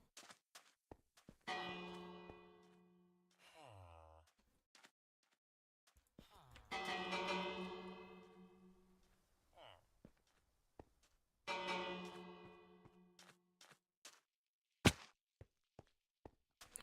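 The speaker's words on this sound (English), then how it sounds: "Oh yeah, you can ring the bell." A village bell in the Minecraft video game rings three times, each a bright resonant clang that slowly decays, spaced several seconds apart, with faint blocky footsteps and clicks in between.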